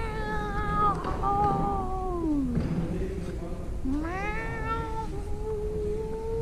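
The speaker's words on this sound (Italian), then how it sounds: "Si è messo buono il gatto." A cat meows twice in drawn-out, wavering cries with a pause between them, close and prominent over a steady background.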